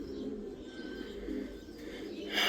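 Baghdadi pigeons cooing softly nearby, low repeated coos over a quiet background, with a brief brighter rustle at the very end.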